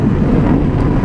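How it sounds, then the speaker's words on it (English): A fighter jet passes overhead while a motorcycle rides along, a loud, continuous broadband roar that fills the whole moment with steady rushing noise. "Oh, that's a fighter jet."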